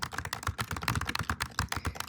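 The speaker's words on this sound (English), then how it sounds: "if I keep typing" Quick, close clicks of fingers typing on a computer keyboard come in an irregular, steady patter of keystrokes, fairly quiet and with no voices.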